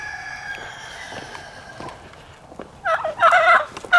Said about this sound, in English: Same old turkeys.